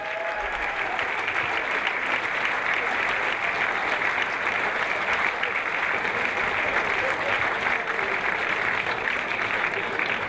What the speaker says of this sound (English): can we just have a huge round of applause to players and event management